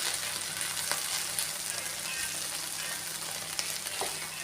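Curry leaves sizzle and crackle steadily in hot oil in a pan, with a dense continuous hiss and occasional sharper pops, close and fairly loud.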